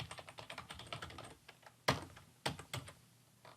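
Fingers typing on a computer keyboard while entering spreadsheet data, a quick run of soft key clicks followed by a few louder, spaced keystrokes, close and alone.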